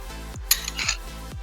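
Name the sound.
mixing Oreo biscuit powder into ice cream mixture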